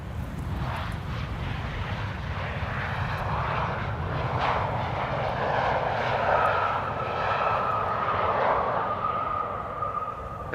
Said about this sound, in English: Another Embraer 190 after this, arrived from Aberdeen.